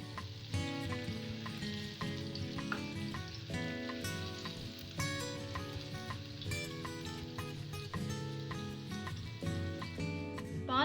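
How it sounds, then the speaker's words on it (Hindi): Pumpkin pieces sizzle steadily as they fry in a pan with garlic-ginger paste and whole spices, a continuous frying hiss sitting under prominent background music. "इस स्टेज पर हम कद्दू की बहुत ही अच्छी तरह से भुनाई करेंगे 5 मिनट के लिए"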